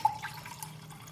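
Water is poured from a drinking glass into a casserole pot of chicken and rice, a brief, quiet splashing trickle heard up close with no talking.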